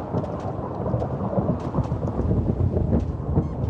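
Heavy rain with rolling thunder in a video game, a dense, loud, continuous downpour with deep rumbling underneath, no voices present.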